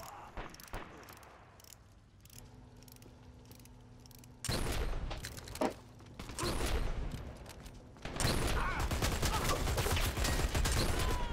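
Sniper rifle shots and game action in Dirty Bomb, loud bursts of gunfire and mechanical clatter arriving in sudden blocks after a quieter stretch, with no talking.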